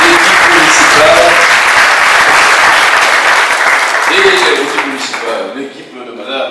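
An audience applauds at the mayor's New Year greetings ceremony in Saint-Claude: dense, steady clapping from a roomful of people that thins and fades toward the end.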